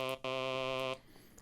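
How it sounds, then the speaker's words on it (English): A dry supersaw lead synth from Serum with its effects switched off, a brief stab followed by one sustained buzzy, harmonically rich note that cuts off cleanly into near silence. "It's just a super saw."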